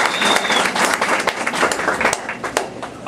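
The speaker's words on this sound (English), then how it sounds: "So I'd like to give her a big round of applause for Barbara." Audience applause at a governor's press conference, a steady wash of clapping hands lasting throughout, moderately loud and fairly close, with no talk over it.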